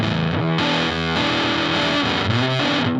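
An electric guitar pushed through a Big Muff style fuzz pedal drones thick and heavily distorted, sustained chords ringing with dense, saturated harmonics and no talking.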